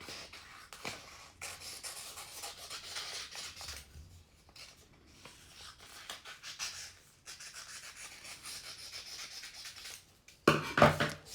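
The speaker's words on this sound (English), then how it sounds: "you can take your scrap paper, the leftover from when you made the headband, and you can cut it into long skinny strips like this" Scissors cut leftover scrap paper into long, skinny strips, making quiet, close, irregular snips and papery rustles, with a louder crinkling burst near the end and no speech.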